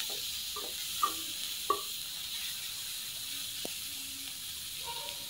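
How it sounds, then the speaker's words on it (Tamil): Chopped tomato and green chillies sauté in a pan for an egg pepper fry, a soft steady sizzling hiss with a couple of faint utensil clicks, fairly quiet and without voices. "இதையும் நல்லா வதக்கிக்கலாம்."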